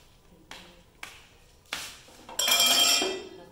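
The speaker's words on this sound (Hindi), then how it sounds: "मैं बर्तन धो के दिखाती हूँ आपको" Dishes, pots and utensils being washed by hand in a home kitchen: a few separate clanks and clinks, then a louder, denser stretch of clattering metal and running-water wash near the end.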